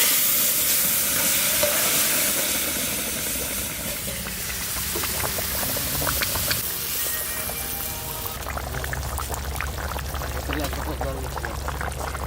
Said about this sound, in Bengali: আমরা এখানে ফোড়ন দেবো, তার জন্য দিয়ে দেবো সর্ষের তেল।